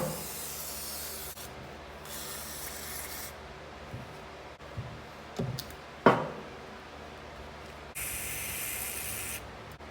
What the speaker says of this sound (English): So I sprayed that little cavity full of WD-40